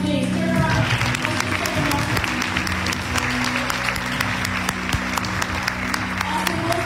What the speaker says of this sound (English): Can we just applaud you, please?